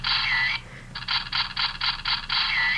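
A Go-Busters DX Buster Gear toy emits a looping electronic activation chirp: a warbling tone, a short pause, then rapid pulsing beeps before the warble returns.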